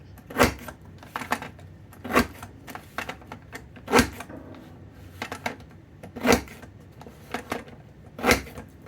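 Scissors cut paper for a scrapbook border, giving sharp snips spaced about every two seconds with softer rustling and handling in between, close and clear.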